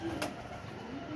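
Pigeons cooing outdoors, a soft low throaty coo heard briefly against a steady background hum.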